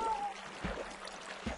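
Minecraft waterfall flowing as a steady broadband wash of water, soft and continuous, with a couple of low thumps.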